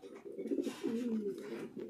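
Fancy pigeons in a breeding loft give low, throaty coos in a steady overlapping run, fairly close but soft, with no talking.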